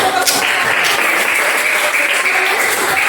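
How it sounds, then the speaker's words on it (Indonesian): A classroom group at a teacher-training session breaks into dense, steady applause, many hands clapping together loudly and continuously throughout. "Oke, tepuk tangan."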